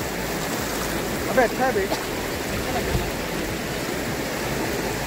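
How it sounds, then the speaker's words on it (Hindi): The flooded Shivnath river in Chhattisgarh rushes past in a fast, loud, continuous roar of churning water, with someone speaking briefly over it. "तेज बहाव है तो अपन दोनों रुक चले जाएंगे, अब नहीं मिलेगा भाई, हो गया है ना, पानी तेज हो गया ना, देखो"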